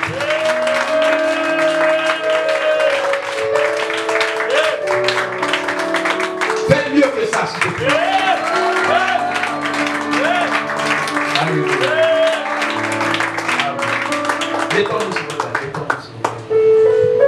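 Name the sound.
congregation applauding in church service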